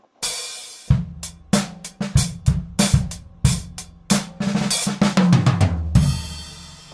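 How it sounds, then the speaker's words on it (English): A full drum kit played together, with bass drum, snare, tom and cymbals in a loose groove of irregular hits. A sustained cymbal wash opens and closes the passage, and the playing is loud and close with no voices. "That's the drum kit or the drum set."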